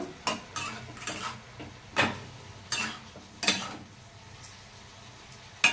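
Metal spoon stirring and scraping food in a cooking pot, about a dozen separate clinks and scrapes at an uneven pace, close by. No one speaks.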